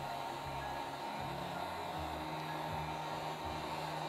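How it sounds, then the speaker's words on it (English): A heat gun on a medium setting blows over an acrylic paint pour with a continuous, even whir and rush of air, like a hair dryer. It is fairly quiet and steady throughout, with no talking. "I'm just lightly going over the whole thing with this heat gun at a medium setting."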